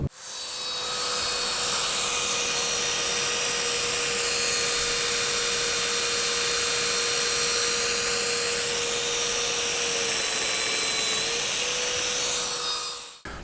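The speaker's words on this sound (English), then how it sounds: "I can take my biscuit machine, put it on there, use this as a reference" A biscuit joiner plunges into white oak with a steady high-pitched whine that runs close and loud for about thirteen seconds, then spins down at the end.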